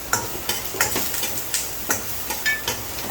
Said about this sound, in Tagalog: Next to sibuyas, ilalagay na rin natin yung bawang hanggang medyo golden brown siya.